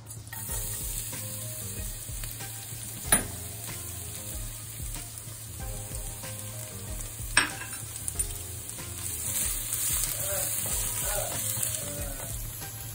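Chopped onion and garlic sizzle steadily in hot oil in a pan, a continuous close frying hiss with occasional clinks of a spatula or utensil against the pan.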